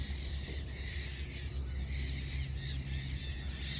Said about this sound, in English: And those birds sure have a lot to say.